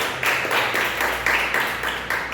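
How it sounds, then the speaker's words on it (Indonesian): Church congregation clapping together during a sermon, a loud, rhythmic series of unison claps in a steady beat, close and strong. "Tepuk tangan buat Tuhan."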